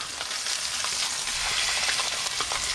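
Pork chops sizzle and spit steadily in a hot pan, a dense, loud crackle of frying fat that holds constant throughout with no talking.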